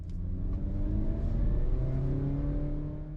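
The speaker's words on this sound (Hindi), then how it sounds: "जो इंजन की साउंड है वो तो बड़ी वैसे म्यूटेड सी है" A 2023 Honda City 1.2 CVT engine hums steadily and low while driving, its sound muffled and even, with a slight rise in revs partway through.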